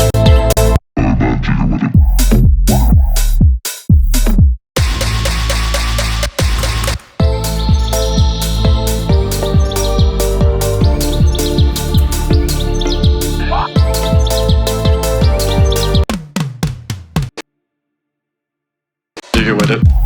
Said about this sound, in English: We're gonna do super reverb bird.